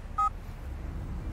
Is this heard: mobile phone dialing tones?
yes